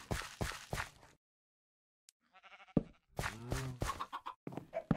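Sheep in the Minecraft video game bleat in a few short, wavering calls between quiet gaps, fairly close and clear with no talking over them.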